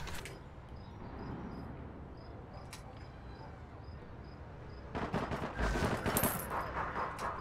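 Gunfire in the online shooter APB Reloaded, heard as distant rattling bursts over a steady ambient bed, growing louder and denser in the last few seconds with sharp crackling shots.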